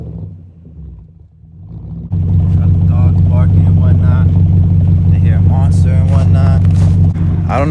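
A BMW 540i engine idles low, then jumps into a loud, sustained revving drone with a whining, supercharged-like character, close and steady until it drops slightly at the end.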